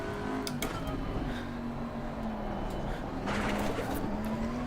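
A GT3 race car in the racing game Assetto Corsa Competizione four-wheel slides through a long right-hander, its engine holding a steady drone under a faint tire scrub, with no talk.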